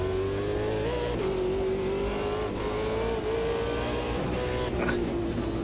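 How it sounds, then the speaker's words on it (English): A V8 race car in Automobilista 2 holds a steady, loud engine drone under acceleration, its pitch wavering as the rear tyres spin, with a brief higher squeal near the end. "that V8, when it hits the power curve, just lights up the rear tyres"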